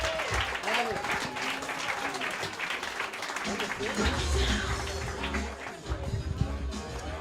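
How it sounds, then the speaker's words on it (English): A comedy club audience at a roast battle show applauds a competitor being brought to the stage. The clapping is sustained and fairly full and mixes with an announcer's voice talking over it. "Clap it up for Evan Williams."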